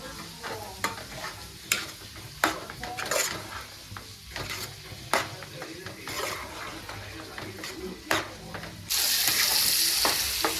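Carrot halwa being stirred with milk and sugar in a pan, a spoon scraping and clattering against the metal in irregular strokes over a soft sizzle, ending in a louder, steady hiss.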